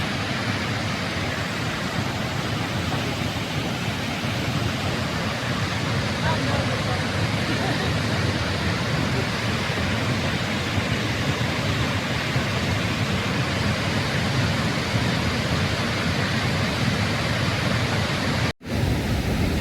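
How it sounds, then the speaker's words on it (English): Steady, broad rushing roar of a waterfall, loud and constant throughout, with a brief dropout near the end. "You can see that waterfall coming down there."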